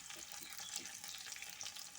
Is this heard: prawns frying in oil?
yes